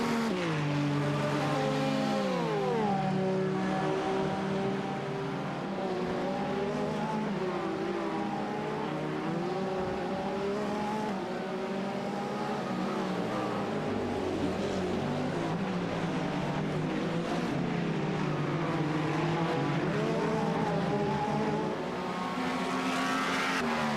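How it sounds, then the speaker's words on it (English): Race cars in a sim racing game at Le Mans, including a Ferrari, drone steadily with engines shifting pitch through gears as they battle closely, a continuous loud roar with no talk. "Both these cars looking to try to get past the Ferrari of Verdonk."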